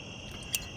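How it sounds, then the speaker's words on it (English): An insect chorus of cicadas at an evening campground, a steady high-pitched drone with one brief sharper chirp partway through. "And to the chorus of cicadas, I toast the last of my second day on the road."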